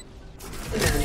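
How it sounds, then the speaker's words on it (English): A short mechanical weapon reload in Valorant, with clicks and a ratcheting metallic slide that swells louder toward the end, heard alone. "Reloading."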